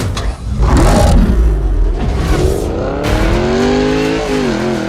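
A Koenigsegg Regera in a racing video game accelerates hard, its engine note rising steadily through the gears with a loud, continuous roar and brief tire squeal, close and dominant throughout.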